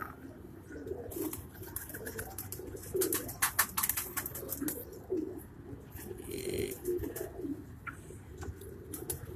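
Pigeons coo nearby on a rooftop in Karachi in soft, throaty bursts that repeat unevenly, with occasional sharp chirps and rustling in between.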